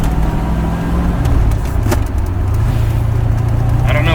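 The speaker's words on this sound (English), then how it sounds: "it has a little bit of clutch chatter" Clutch chatter in first gear on a 1985 Chevrolet Corvette C4, heard as a loud, close, continuous low engine rumble with a faint shuddering vibration.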